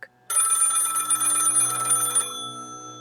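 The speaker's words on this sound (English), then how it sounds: "the house phone rang" A house telephone rings once with a bright, loud electronic trill lasting about two seconds, then cuts off and leaves a faint fading tone.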